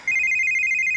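A phone rings with a bright electronic tone, a steady high-pitched ringing that starts abruptly and continues close and clear with no one talking.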